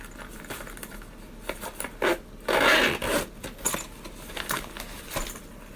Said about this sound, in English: Here is the zipper.